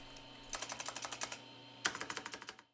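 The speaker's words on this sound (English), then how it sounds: "this beautiful keyboard with a really nice clicky" Clicky keyboard on a 386sx40 computer being typed on in two quick bursts of crisp, evenly spaced keystrokes, close and alone in an otherwise quiet room, with a short pause between runs.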